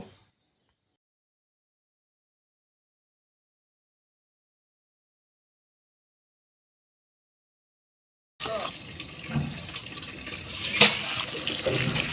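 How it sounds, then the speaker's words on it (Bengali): Running tap water splashing as thankuni (Indian pennywort) leaves are rinsed, a steady moderate rush that begins abruptly after a long stretch of near silence. "তুলে নেওয়ার পরে এবার এটাকে ভালো করে ধুয়ে নেব।"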